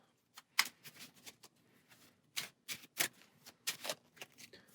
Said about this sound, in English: Give it a quick shuffle, drawing up to 6 cards